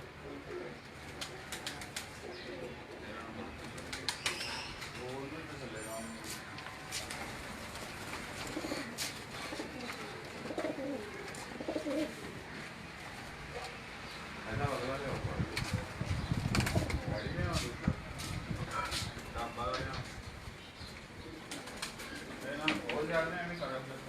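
Pigeons from a rooftop loft in Faisalabad cooing steadily in the background, faint and continuous under ongoing talk and outdoor noise.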